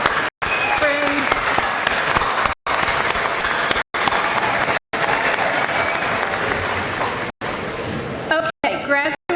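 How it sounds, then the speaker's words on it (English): Loud, sustained applause from a large crowd at a community college commencement, continuous clapping broken by several abrupt dropouts in the sound. "would you join me in providing the valuable at-home student support system that we have going here? A round of applause."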